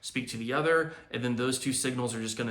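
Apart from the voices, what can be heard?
None of the usual background noises is heard.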